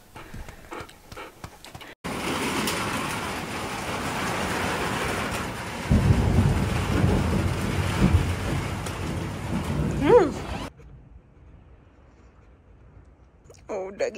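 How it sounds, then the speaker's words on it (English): Thunder rumbles during a thunderstorm, heard muffled from inside a closet as a steady rain-like wash with a deeper rolling swell midway, cut off abruptly near the end; a voice speaks softly at the start. "it, like, dampens the thunder noises"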